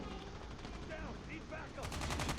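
Gunfire in the Call of Duty Mobile video game: faint in-game sounds give way to a short, rapid burst of automatic shots near the end.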